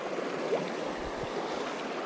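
Fast-flowing stream water on the River Ayr, a steady broadband rushing wash with no breaks, close and continuous for about two seconds.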